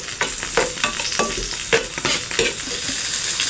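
Pork pieces fry crispy for kare kare in hot oil, a steady loud sizzle broken by repeated scraping stirs at an uneven pace.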